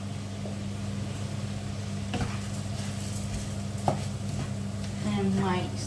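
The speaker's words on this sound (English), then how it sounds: "So I'm now gonna put the risotto rice with it. We gotta fry them on" Risotto rice fries in a pan for a pumpkin risotto, with a low steady sizzle and a few sharp scraping stir strokes over a constant hum.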